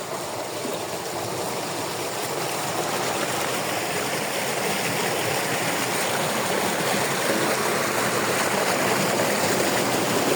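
Cold water in a village stream rushes and splashes without pause, a loud, broad hiss that stays even throughout, close by with no voices.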